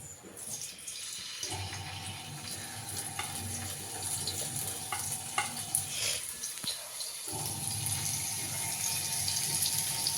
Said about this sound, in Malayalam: എണ്ണ ചൂടായാൽ നമുക്ക് ചിക്കൻ ഇതിനകത്തോട്ട് ഇടാം.